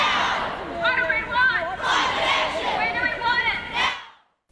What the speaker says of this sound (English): Chanting and cheers rang out in central Christchurch this afternoon.